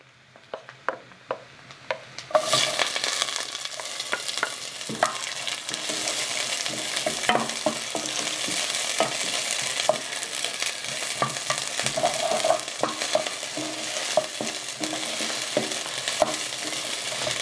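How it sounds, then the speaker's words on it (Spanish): Onion dropped into hot oil in a clay cooking pot, bursting into a steady loud sizzle after a few quiet clinks, with scraping and stirring clatter continuing throughout. "Aquí en esta cazuela el aceite también ya está caliente. Ya le voy a poner la cebolla."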